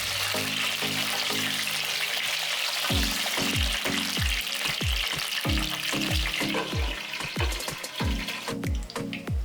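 Brinjals (eggplants) fry in a pan with a continuous sizzle, broken by a regular series of sharp spatula scrapes and knocks as the pieces are stirred and turned.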